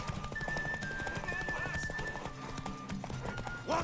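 Rhythmic horse hoofbeats clip-clop steadily throughout in The Witcher 3: Wild Hunt, with the horse whinnying near the end over faint background voices and ambience.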